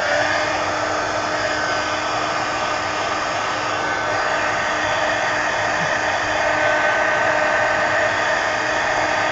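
A hair dryer blows on an art journal page to dry the ink, a loud, constant whooshing whine with a steady motor tone, running unbroken and close with no talking.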